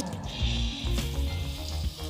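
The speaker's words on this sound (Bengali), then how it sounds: "আলুটা কড়াই দিয়ে দিচ্ছি" Potatoes sizzling in hot oil in a kadai alongside dried chilli, bay leaf and panch phoron, a continuous close frying hiss with a brief surge as they settle.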